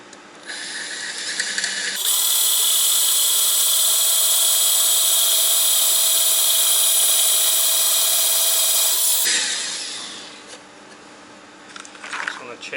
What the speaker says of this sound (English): drill some holes in this.